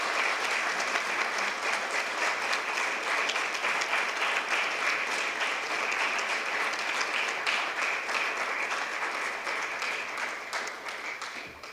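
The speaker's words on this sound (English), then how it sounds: "You deserve a good applause." Audience applause at a state senate candidate forum, a dense, even wash of clapping from a full room that holds steady and then tapers off at the end.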